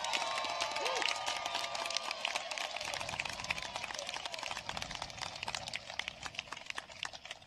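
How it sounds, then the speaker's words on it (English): Audience applause fills a commencement ceremony crowd, a dense, steady wash of many hands clapping at a fairly even level for several seconds, with faint cheering mixed in. "please give a huge round of applause for Professor Tim Arner"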